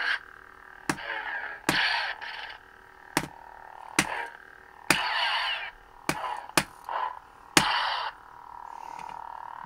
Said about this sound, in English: It'll make the clashing sounds.